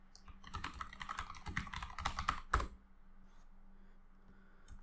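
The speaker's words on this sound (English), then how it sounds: "and when I type anything in this document" Fingers type quickly on a computer keyboard, producing a close, irregular run of soft clicking keystrokes. The run ends with one louder tap, and faint quiet follows.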